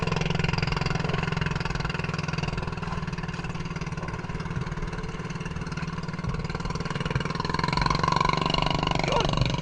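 A boat motor on a new wooden outrigger fishing boat drones steadily at sea, a constant low hum with a faint rise in loudness near the end.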